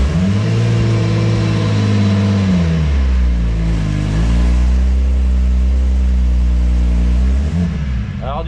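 A BMW 320i E36 engine revs in first gear, its loud droning note rising and falling through several swells, close by and sustained, with a voice faintly beneath the engine.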